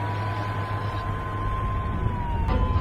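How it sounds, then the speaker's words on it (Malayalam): An ambulance siren sounds as a steady, sustained tone over a low engine hum, continuous and fairly close throughout. "Oh stop the siren! പൊട്ട സൈറൻ ഓഫ്!"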